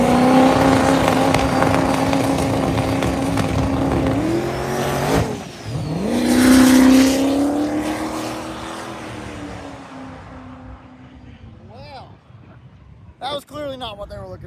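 A twin-turbo drag car with big wheelie bars launches at a drag-and-drive event, its engine roaring loud and close, rising in pitch, then fading as it pulls away, with excited commentary talking over it throughout.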